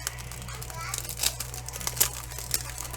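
Grandchildren playing in the background indoors, faint, scattered children's voices and bits of crinkling over a steady low hum.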